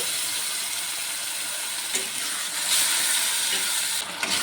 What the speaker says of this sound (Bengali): মশলাটি একটু নেড়ে চেড়ে নিয়েছি